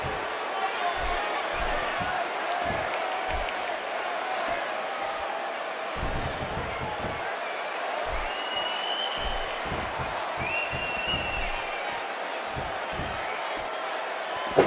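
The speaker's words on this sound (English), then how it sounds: "we have an incredibly enthusiastic crowd in Santa Clara for this one" Simulated arena crowd in the WWE 2K18 wrestling video game, a steady loud roar with scattered thuds from the ring, heard continuously under a commentator's talk.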